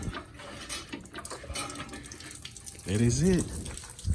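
Coolant pours out of a 2012 Dodge Charger during engine removal, a steady splashing, water-like flow heard close up, with someone speaking briefly over it.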